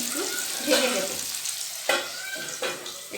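Potatoes with salt stirred in a frying pan over a steady sizzle, with a few scraping stirs rising and falling at close range.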